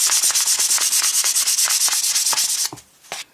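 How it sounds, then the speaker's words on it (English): Very fine sandpaper scrubs over varnish on a toy paintbrush from a vintage Mego Friar Tuck figure in quick, rhythmic back-and-forth strokes, close and raspy, then slows to a few separate rubs. "I'm just going to use some very fine sandpaper here just to rough up the varnish all around the paintbrush"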